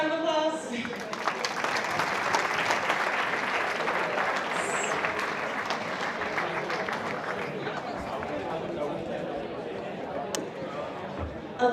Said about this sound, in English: All right, another big round of applause.